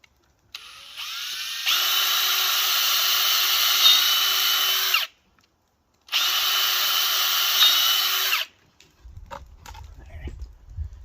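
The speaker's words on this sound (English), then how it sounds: "Just gonna drill a couple holes along the top here." Power drill boring holes with a bit near the top of a part during an ATV radiator fan repair: two sustained, loud whirring runs of about three and two seconds, separated by a short pause, followed by light handling noises.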